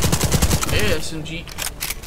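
Fast SMG bursts in Black Skylands, a rapid rattling string of close, loud shots in the first half second, then a brief pause and another short flurry. A voice speaks over the middle of it.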